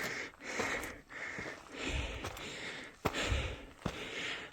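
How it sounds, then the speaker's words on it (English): A hiker breathes heavily while climbing uphill toward Watchtower in Sequoia National Park, with repeated loud, close exhalations and rustling between breaths. "a lot of heavy breathing"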